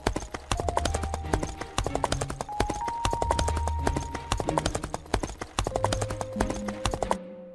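Horses trotting back toward a royal palace make a steady, close clip-clop of hooves that carries on for several seconds with occasional faint tones behind.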